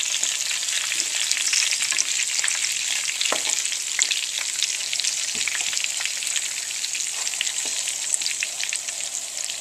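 Anaheim peppers fry in a pan with a dense, continuous sizzle and crackle, with occasional soft stirring knocks and no talking.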